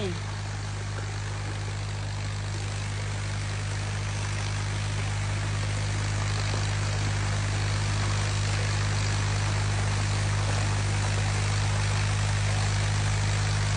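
A 31-horsepower farm tractor drives a 4-inch water pump through a 10-metre shaft. The engine and pump give a loud, steady, continuous drone with a strong low hum that runs unbroken throughout.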